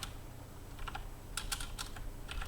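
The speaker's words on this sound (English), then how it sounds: "keyboard" Close keyboard typing on a computer during game development: short bursts of quick key clicks separated by brief pauses, over a faint steady hum and with no talking.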